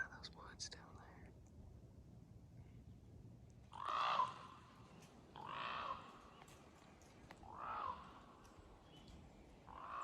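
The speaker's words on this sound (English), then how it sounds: "I think that is the biggest crow I have ever seen." Large crow calling in the woods during a deer hunt, a few hoarse caws spaced a couple of seconds apart, moderately distant over a quiet background, with faint low whispering early on.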